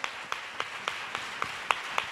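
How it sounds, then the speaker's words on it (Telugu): Congregation clapping during a Sunday sermon, heard as a quiet, steady rhythm of about eight evenly spaced claps in roughly two seconds, distant and faint. "చప్పట్లు కొట్టు."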